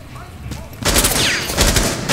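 Gunfire in Rainbow Six Siege, a loud burst of rapid shots erupting after a quieter lead-in and continuing as a sustained volley to the end.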